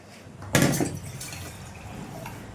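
Hot water is poured little by little into puttu flour, a short close splash that quickly fades into quieter trickling.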